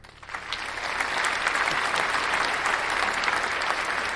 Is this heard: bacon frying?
no